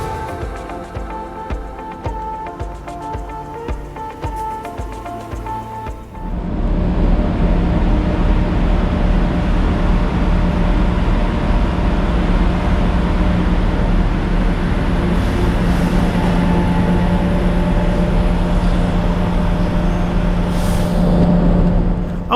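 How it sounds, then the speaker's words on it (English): A 3-car DSB MF train pulls into Aarhus main station, a low rumble giving way around six seconds in to a loud, steady mechanical roar with a sustained hum, close by and without talk. "here you can see my train arriving at the main station of Aarhus"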